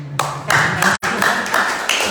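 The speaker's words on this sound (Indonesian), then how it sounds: "Karena saya sudah dapat tepuk tangan." Seated audience claps in short bursts, a loud broadband patter that cuts out for an instant midway before resuming.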